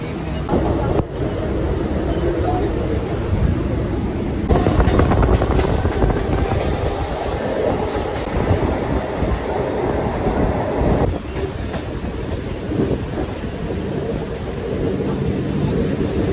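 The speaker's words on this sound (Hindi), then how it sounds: "ये जो ट्रेन है ये डोंबिवली जाती है" A Mumbai local train bound for Dombivli passes a station platform with a loud, steady roar of wheels and carriages, rising in intensity midway and sustained throughout, with faint wheel squeal and rail clatter.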